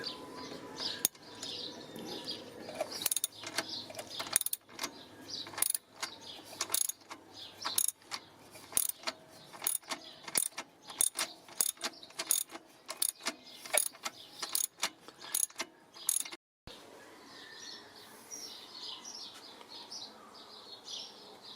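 A ratchet loosens a left-hand thread pulley bolt on a BMW 318iS engine, giving many quick, close clicking bursts in an irregular rhythm, with a brief pause near the end.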